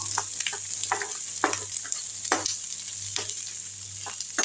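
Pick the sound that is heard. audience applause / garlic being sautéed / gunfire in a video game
garlic being sautéed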